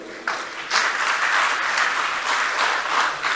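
An audience at an Indonesian speech event gives loud, sustained applause that starts abruptly and keeps going steadily to the end, with no voice on top.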